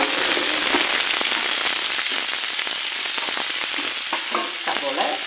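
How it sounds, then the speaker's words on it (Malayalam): Crushed shallots, curry leaves and green chillies fry in hot oil, giving a steady, close sizzle with crackling spits throughout and no talking. "നമുക്കിനി ഉള്ളി ചതച്ചതും കരിവേപ്പിലയും പച്ചമുളകും. കൊച്ചുള്ളിയാണേ, അതൊന്ന് വഴന്ന് വരട്ടെ."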